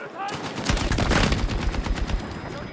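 A high-RPM KTS100 MK8 light machine gun fires a fast, continuous burst in Battlefield 6, with loud, dense rapid shots close up, and no one speaking over it.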